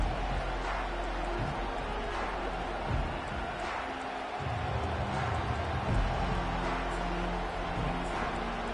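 A steady roar of stadium crowd noise from the NCAA 25 college football video game fills the scene as a constant dense wash.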